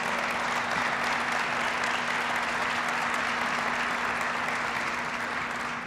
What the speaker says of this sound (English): Please give him a big round of applause.